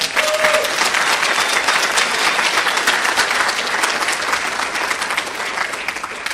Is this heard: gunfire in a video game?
no